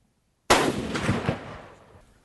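A single rifle shot is fired at a target 300 yards away, a sharp, loud close-range crack followed by a rumbling report that decays over about a second and a half, with no talking.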